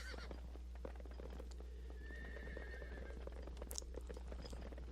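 A horse whinnies once over a low steady hum and faint clip-clop, with quiet game-like background sounds, in the video game Sacred.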